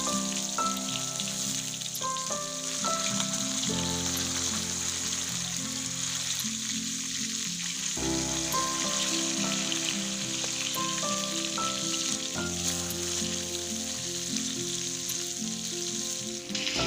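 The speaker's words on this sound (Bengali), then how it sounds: "আমার মাছগুলো দুটো খুব ভালো করে একটু ভেজে নিয়েছি" Katla fish pieces frying in oil, a dense continuous crackling sizzle like rain on a surface, heard close and steady with background music playing throughout.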